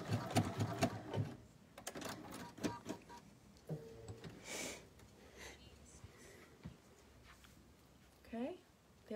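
A sewing machine stitches fabric for a fabric bowl with quick, whirring bursts, louder at first and then intermittent, while someone talks over it.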